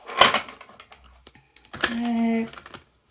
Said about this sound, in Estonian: Segan kõigepealt kaardid ära.